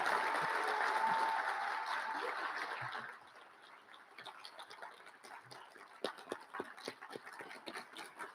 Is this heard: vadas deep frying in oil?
no